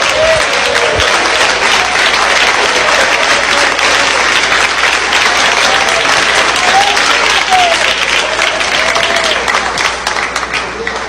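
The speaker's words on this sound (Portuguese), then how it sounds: "podem glorificar a Deus com as palmas." A church congregation claps loudly in worship, a continuous wash of many hands that holds steady throughout, with faint voices mixed in underneath.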